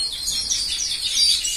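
Venezuelan red siskins chirp in a continuous, fairly loud twittering of high, rapid notes with no voices.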